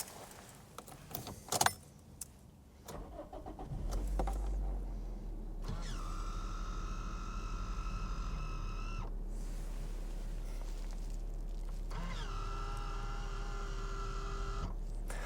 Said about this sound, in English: switch that folds your mirrors in